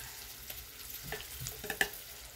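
Garlic frying in a large pan, a soft low sizzle with light scrapes and a couple of faint metallic clinks from stirring, no talking.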